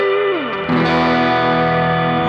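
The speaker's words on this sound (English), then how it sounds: "This is now just a wet reverb." Guitar chord played through a Boss GT-1000 Core processor with a wet reverb effect, a sustained distorted tone that swells after a sliding note and rings on with a long, even tail, no voice present.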